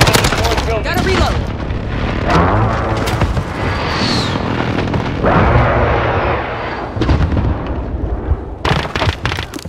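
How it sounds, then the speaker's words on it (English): Precision airstrike explosions in a Modern Warfare multiplayer match: loud, dense booms and blasts overlap with rapid gunfire, including a whooshing sweep midway, continuing almost without pause throughout. "Allied precision airstrike incoming."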